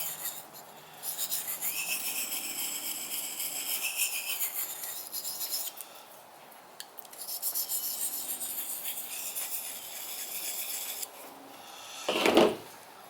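A knife blade being honed on a piece of ceramic taken from a natural gas heater, repeated close scraping strokes with brief pauses between passes, ending in a short sharp clack.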